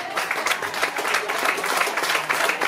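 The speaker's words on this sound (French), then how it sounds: "Vous pouvez l'applaudir, s'il vous plaît." Dense applause from an indoor audience at an evening event in France, a steady wash of many clapping hands with no clear individual claps, continuing throughout.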